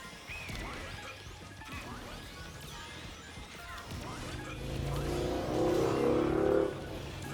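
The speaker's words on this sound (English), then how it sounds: "That was a noisy truck outside." A noisy truck rumbles past outside, a low heavy engine roar that swells toward the end and then drops away, heard under busy racing game sounds with crashes and engine whines.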